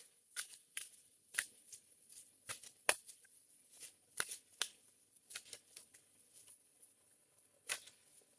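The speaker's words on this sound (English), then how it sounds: "Let's shuffle the angel cards." Angel cards are shuffled by hand, with a series of soft, quick riffling bursts and light papery flicks spread irregularly over several seconds, close and quiet with no talk.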